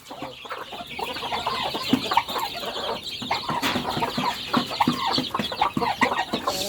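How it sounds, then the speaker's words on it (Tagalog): Chickens and chicks on a farm cluck and peep continuously up close, a busy overlapping chatter of short calls. "ito yung mga sisiw natin mga farmer."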